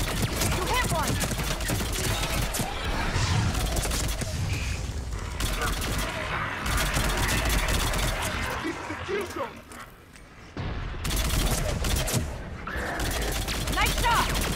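Gunfire in Mass Effect 3, a dense stream of sharp shots running almost continuously under a busy, cluttered battle mix, with only a brief lull near the end before the firing resumes.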